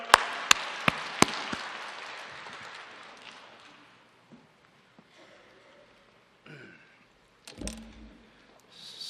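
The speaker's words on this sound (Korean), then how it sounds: "하나님께 기쁨, 영광과 감사의 박수 올려드립니다." A church congregation claps at a Sunday service, with a few sharp claps and a brief spatter of applause at the start that quickly fades to near quiet, followed by faint rustling and scattered soft sounds.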